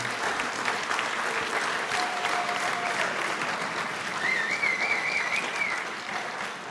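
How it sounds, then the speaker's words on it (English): Sustained applause from an audience at an All County Band concert, steady and full for several seconds, with a few whistles cutting through near the end before it starts to taper. "Let's please give them all a round of applause"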